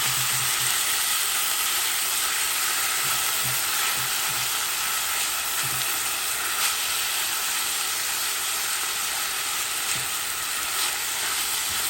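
Sloppy joe ground meat sizzles steadily in a hot pan with a constant broadband hiss, while occasional soft scrapes and taps from stirring and breaking up the crumbles punctuate the frying.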